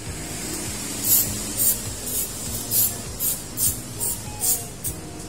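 Repeated short bursts from a spray paint can coat a flower made of seashells, about eight hissing puffs in steady rhythm over a low background hum, close and fairly loud.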